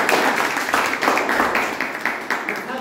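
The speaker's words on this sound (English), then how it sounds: "Let's have a big round of applause for him." An audience at a Toastmasters club meeting gives a round of applause, steady overlapping clapping throughout with a few louder individual claps standing out.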